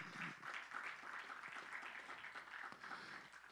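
Church congregation applauding during a Spanish-language sermon, a steady mass of clapping from many people, moderately distant and even, with a few sharper individual claps standing out.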